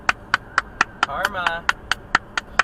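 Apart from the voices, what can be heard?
hand clapping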